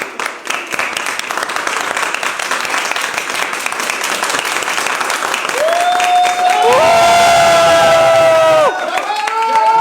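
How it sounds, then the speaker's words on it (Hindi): Audience at an e-learning app launch ceremony claps and cheers in a loud, dense burst that swells and holds, with sustained whistle-like or horn-like tones rising over the crowd near the end. "एक बार ज़ोरदार तालियां बजाकर हम लोग स्वागत कर सकते हैं इस बेहतरीन"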